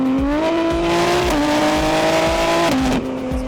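A car engine accelerates hard to overtake a Mercedes GLS, a loud close roar whose pitch climbs through gear changes with brief dips between shifts, continuous and without talk.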